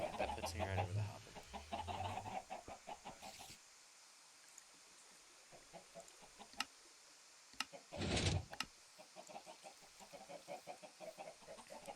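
Chickens cluck in the survival game Elfland, a few short calls at low level mixed with ticking game sounds and background noise.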